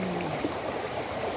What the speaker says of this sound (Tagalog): Flowing water talaga ito guys. Ang lakas ng agos.